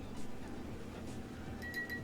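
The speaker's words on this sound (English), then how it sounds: "That is the sound of my bowl cracking" Low microwave hum carries faint ticks, then a few short, high ringing pings near the end as a ceramic bowl cracks inside the microwave. Quiet overall, with no talking.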